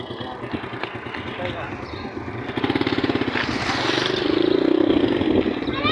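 Motorcycles and cars pass along a busy roadside, engines droning close by and a bike revving louder as it nears, while people talk over the traffic noise.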